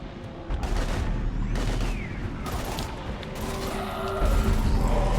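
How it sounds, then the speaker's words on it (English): Dense combat gunfire from the video game Mass Effect 3, with sustained bursts and heavy shots in a chaotic firefight, continuous and fairly loud throughout, occasional voices faintly mixed in. "We're taking heavy fire."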